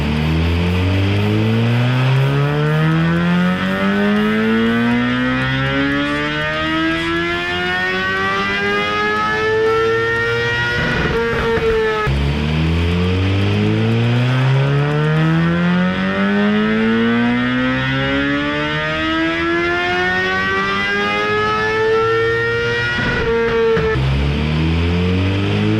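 Suzuki Gixxer 750 motorcycle on a dyno, engine loudly revving up in two long sweeping pulls through the gears to a high screaming peak, each ending with a sharp drop.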